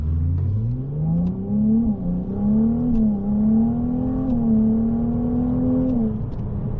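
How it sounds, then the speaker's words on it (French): A Ferrari 288 GTB accelerates on a track circuit, its engine note rising steadily and holding a loud, sustained drone close to the listener, with small dips as the revs shift before easing off near the end. "dès que tu as la roue droite, tu peux accélérer"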